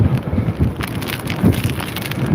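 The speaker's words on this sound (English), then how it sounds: "The wind is right picked up." Wind blowing outdoors in the UK after a recent storm, a steady low rumbling buffet with gusting surges against the microphone throughout.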